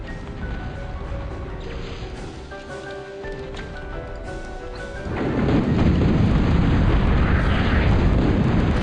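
Advanced torpedo explosion striking a Crusader warship in the Total Annihilation: The Core Contingency strategy game, heard as a loud, sustained rumbling blast that swells in about halfway through, over quieter game ambience with faint tonal music beforehand.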